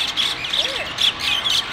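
A bird squawks near its nest high on a rock face on the Diamond Head hike in Honolulu, Hawaii, giving several short, harsh calls at close range in steady succession with faint voices in the background.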